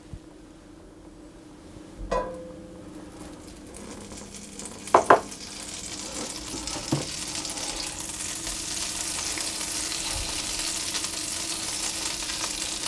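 Butter melts in a pan for a chicken pot pie, giving a faint sizzle that builds steadily into a broad frying hiss, with a few light clinks of utensils early on.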